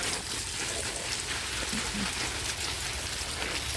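Strong stream of water from a garden hose spraying onto leaves of ornamental caladium plants to wash off mud, a steady broad hiss and patter, close and continuous with no pauses.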